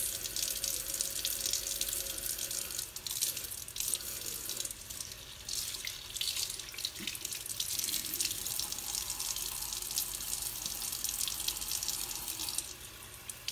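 A tap runs steadily into a bathroom sink as water is used to rinse off face cleanser, a continuous close hiss and splash that stays even throughout with no talking.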